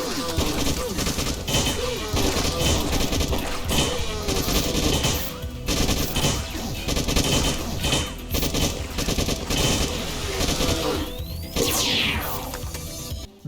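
Rapid pistol and SMG gunfire from the video game Beyond Sunset, loud and dense bursts of shots rattling continuously under game music, with a rising whoosh near the end.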